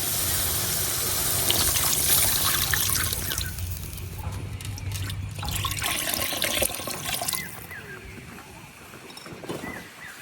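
Water pours in a steady, loud gush into a pan of tender young mango curry cooking on a village stove, fading toward a softer trickle with some faint background voices.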